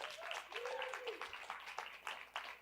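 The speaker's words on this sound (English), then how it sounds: "Let's give a round of applause for that." Conference audience applauding at the opening of a keynote, a steady wash of clapping with whoops and cheers over the top, lasting throughout at a moderate level.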